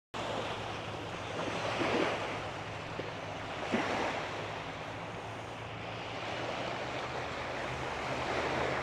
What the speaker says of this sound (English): The waves come in.